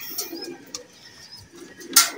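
Soft pigeon cooing close by, low murmuring calls mixed with a few faint chirps and a sharp rustle near the end.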